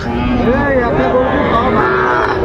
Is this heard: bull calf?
yes